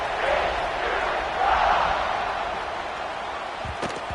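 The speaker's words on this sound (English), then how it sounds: "this crowd is buzzing after that last score" A stadium crowd at a football game buzzes steadily after a score, a dense, sustained roar of many voices that swells briefly then settles, heard at a distance with no close talk.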